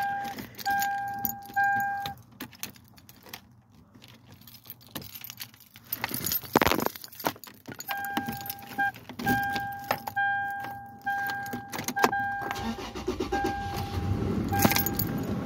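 Keys jangle in short bursts and a car engine cranks and starts, the motor rising to a steady run near the end, close up with no talk.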